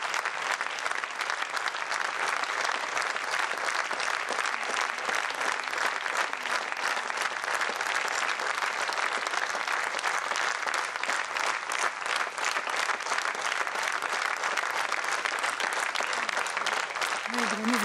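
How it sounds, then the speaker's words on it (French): An audience applauds a singer at her funeral gathering, a dense, sustained wave of clapping that holds at a steady loud level from start to finish, with a voice speaking over it. "Vraiment artiste jusqu'au bout, puisque là encore, elle est applaudie."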